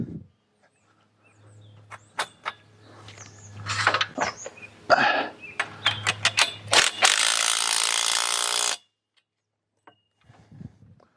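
A ratchet tightens a support strap on a DIY tomato trellis in a garden, with bursts of rapid clicking pawl strokes, a low motor-like hum beneath, then a loud rasping zip before quiet.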